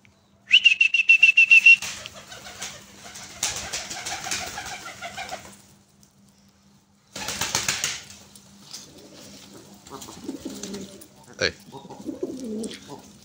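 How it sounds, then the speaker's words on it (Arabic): Pigeons coo close by in short rhythmic bursts, a quick run of throaty calls at first, then intermittent cooing and fluttering separated by quiet gaps. "خرج الحمام اللي ورا، رجعوا عيني هناك."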